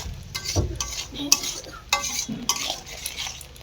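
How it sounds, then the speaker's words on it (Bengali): Spice masala with salt and turmeric being sautéed in a pan, with repeated scraping and clinking of a metal spatula against the pan over a faint sizzle, close and uneven. "দিয়ে ভালো করে মশলাটাকে কষে নেব"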